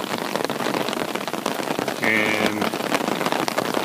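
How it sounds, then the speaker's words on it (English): Heavy rain pours steadily onto a park trail in Rockefeller Preserve State Park, a dense close hiss of drops on leaves and ground, with a brief spoken word and a short tonal sound partway through. "the rain just started coming down heavily"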